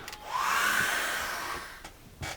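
A hair dryer blows over wet acrylic paint on a bridge landscape canvas, a loud whooshing rush that swells up, holds, then tapers off before a few soft knocks.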